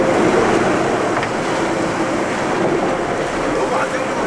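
Ocean waves and wind roar steadily at sea near a large ship at Ulsan port, a dense, loud, continuous rush of surf with no clear breaks.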